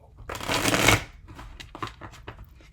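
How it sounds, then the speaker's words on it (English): Slippery Golden Foil Tarot cards get a fast riffle shuffle, a loud close burst in the first second, then lighter flicks and taps as the deck settles, with a voice speaking softly. "So I have to be careful when you shuffle these because they can go flying"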